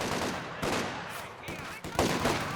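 Machine gun fire in the video game Company of Heroes 2, with bursts of sharp, loud reports interrupted by brief pauses and a heavy cluster of shots near the end.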